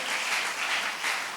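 Brief burst of congregational applause in a church, many people clapping and cheering at once, loud and sustained with gentle rhythmic swells.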